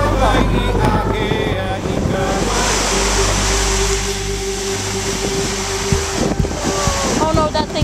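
Ocean surf and gusting wind fill a coastal stretch of Hawaii near a motel, a loud continuous wash with microphone buffeting and a faint motor-like drone running underneath.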